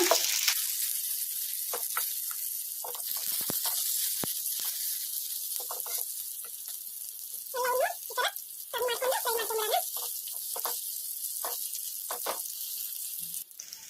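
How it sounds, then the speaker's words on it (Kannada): Stuffed chillies frying in oil in a pan over medium flame give a steady sizzle throughout, with irregular crackles and spatters and a louder bubbling burst near the middle, alone with no talk. "ಇನ್ನು ಒಂದು ಎರಡು ನಿಮಿಷ ಹಾಗೆ ಫ್ರೈ ಮಾಡ್ಕೊಂಬಿಡೋಣ ಮೀಡಿಯಮ್ ಫ್ಲೇಮಲ್ಲಿ"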